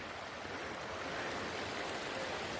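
Mountain creek flowing on a rocky ridge route, a steady dense rush of water, close and constant.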